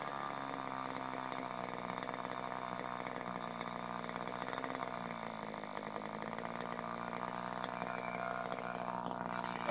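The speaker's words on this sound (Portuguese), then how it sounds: "o motor funcionando" A small Evolution .46 glow engine on a model airplane runs at a steady high-pitched buzz that holds throughout, with a slight dip in pitch midway before it climbs back up.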